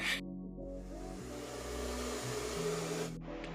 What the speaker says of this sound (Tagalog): yung kaninang nakita nyo nag-blower kasi talaga muna ako para tuyo na agad yung buhok ko